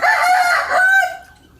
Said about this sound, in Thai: ก็จะมีเสียงไก่ขันนะ